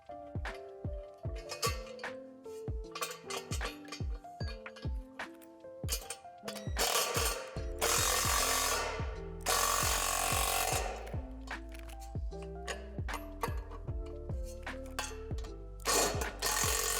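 Ratchet wrench tightening nuts onto bolts of a basketball hoop bracket, a series of rapid clicking ratchet bursts in quick rhythm, close and crisp, with a louder grinding stretch midway.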